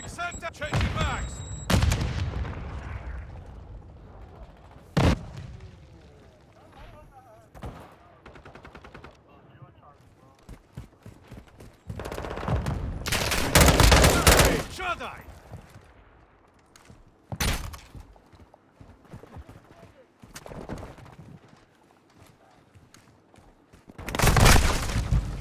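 Call of Duty: Modern Warfare II firefight: loud bursts of rifle and machine-gun fire in rapid volleys, with several heavy booming blasts from a grenade, spread unevenly across the stretch amid quieter gaps and occasional voices.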